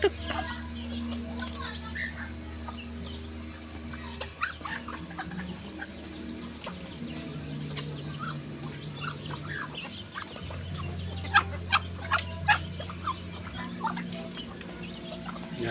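Chickens and young chicks clucking in a backyard flock behind a house, steady soft clucks with a few sharper calls near the end, over a low hum and background noise.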